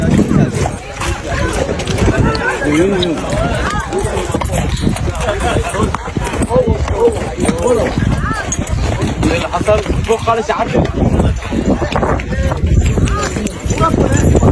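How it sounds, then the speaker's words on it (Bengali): Hooves clip-clop steadily as a horse is ridden near the Giza pyramids, a close rhythmic clatter that continues throughout while a voice talks over it and faint background chatter drifts in. "কেউ ঘোড়ার কানিজ নিয়ে আছে কেউ উঠে উপরে আছে আমি ঘোড়াতে রাইড করছি"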